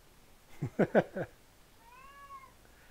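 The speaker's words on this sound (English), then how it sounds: "Cat would like some attention." A pet cat in a home kitchen gives a quick run of four short, close meows, then a single longer, rising-and-falling meow after a short pause, all fairly soft with no talking over them.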